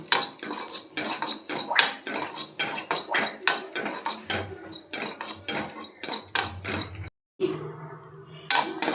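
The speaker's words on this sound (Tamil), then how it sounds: "இஞ்சி சேர்க்க போகிறேன். இதுவும் நல்லா பச்சை வாசம் போக வதங்கணும்." Ginger being sautéed in a pan for coconut podi, heard as steady, close scraping and clinking of a metal spoon against cookware across the clip, with one brief silent gap near the end.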